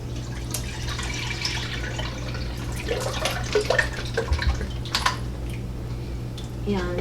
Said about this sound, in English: we're gonna start with 2 quarts of tomato juice